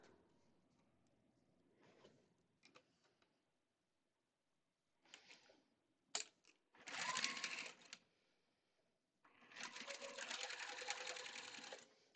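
A sewing machine runs a quarter-inch seam with back tacking at each end, giving short bursts of stitching and then a longer steady run of close mechanical whirring.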